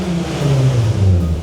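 A 20-year-old VW Golf R32 engine revs hard, a loud, close, growling note that climbs and falls through several throttle blips with no talk over it.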